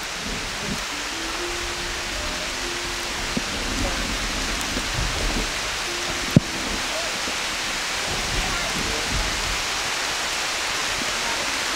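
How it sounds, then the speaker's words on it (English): Steady, dense rain hiss all around in the canopy of a Borneo rainforest in Malaysia, with a faint low hum and one sharp tap partway through; no distinct voices. "it's raining in the rainforest of Borneo and we're in the canopy"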